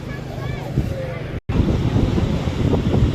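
Sea waves wash the shore under gusty wind buffeting the microphone, a continuous loud rush with a brief dropout in the middle.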